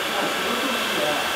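A hair dryer blows steadily on heat-erasable ink, a close, continuous broadband airy roar that holds even for its whole length with no breaks.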